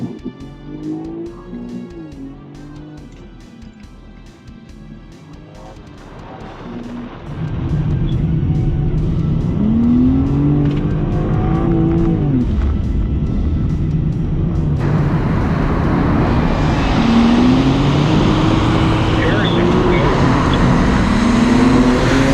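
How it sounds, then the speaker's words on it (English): A GT4 race car starts its first practice lap at the Thermal Club track, starting with a ticking idle and muffled background, then a loud engine roar rising and falling through the gears as the car accelerates. "First practice lap, Shredder."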